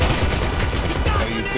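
Gunfire in the GTA 5 video game, a dense continuous burst of rapid shots filling the whole moment, loud and close with no talking over it.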